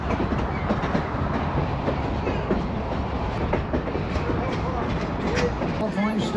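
A railroad car built in 1921, carrying passengers out of Sacramento, gives a continuous loud rumble with clattering and rattling from its wheels on the rails, steady throughout with no clear voices.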